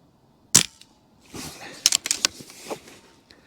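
A BRK Ghost .177 air rifle is fired at an outdoor target, making one sharp, close crack followed by a quieter cluster of clicks and knocks as the rifle is handled and reloaded.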